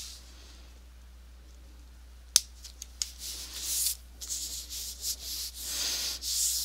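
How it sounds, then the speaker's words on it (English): Paper pop-up frames in a photo album being burnished, a quiet dry rubbing and scraping that starts after a sharp tap and comes in close, uneven strokes with no talking. "I'm still gonna burnish this a little bit more"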